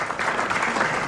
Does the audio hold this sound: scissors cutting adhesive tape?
no